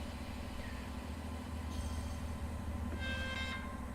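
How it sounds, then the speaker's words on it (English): Small air compressor on a train in the Train Sim World 3 game, running as a steady low mechanical hum and chug beneath continuous engine rumble, with faint higher tonal whines partway through. "Oh, you can hear the little compressor."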